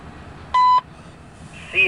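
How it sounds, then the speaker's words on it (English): A CSX railroad equipment defect detector gives one clear, sustained electronic beep lasting about a quarter second, followed by a brief pause before a synthesized voice begins. "CSX Equipment Defect Detector."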